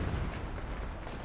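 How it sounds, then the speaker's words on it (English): Mortar fire in the strategy game Company of Heroes 2 lands as a brief, heavy, rumbling blast of deep noise lasting about a second. "Mortar almost gets a wipe on that."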